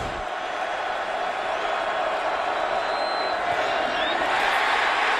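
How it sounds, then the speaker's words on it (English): Hometown football crowd at a West Virginia Mountaineers homecoming game against Baylor, a steady broad roar of cheering and whooping that swells slightly toward the end, with stadium noise throughout. "He is pumping this hometown crowd up."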